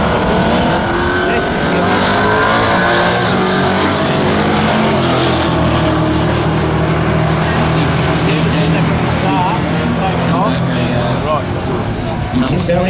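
Loud drag racing engines roar at a Winter Nationals meet, a nitrous-fed Valiant chased down by a turbo six-cylinder Ford XR6, with dense continuous engine noise and a commentator talking over it throughout.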